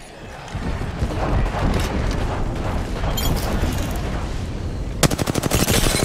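Gunfire in Apex Legends Season 9 roars as dense, continuous automatic weapon fire with booming impacts, loud and close, ending in a rapid run of sharp, evenly spaced shots.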